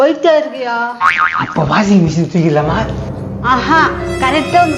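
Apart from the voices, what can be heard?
No everyday noise stands out behind the speech.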